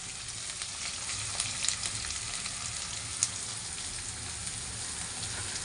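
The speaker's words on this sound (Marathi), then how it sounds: "कांदा हा चांगला फ्राय होऊन द्यायचा" Chopped onion fries in a pan with an even, moderately quiet sizzle and soft hiss that holds for several seconds, with a few brief pops.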